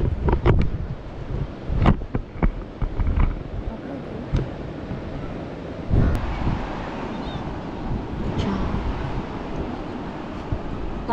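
Cool sea breeze at a beach buffets the microphone in gusty low rumbles, with distant surf beneath, while people talk intermittently nearby.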